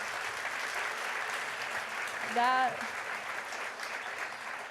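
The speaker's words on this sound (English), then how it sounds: "give yourself a big round of applause for what you just did" Girls in the audience at a large anti-bullying assembly give themselves a round of applause, a steady crowd clapping with cheers and a brief high shout rising over it.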